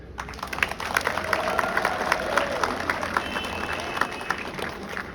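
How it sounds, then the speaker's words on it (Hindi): An audience at a Republic Day school speech event claps, a dense, steady patter of many hands close by that keeps going for several seconds without a break. "एक बार मैं जरूर चाहूंगा उन सभी के लिए तालियां बजाएं।"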